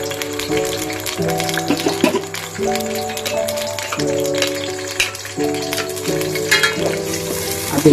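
Ground onions sizzle steadily in hot oil in a home kitchen pan, a loud continuous frying hiss with occasional spoon scrapes and clinks layered over it, no voices.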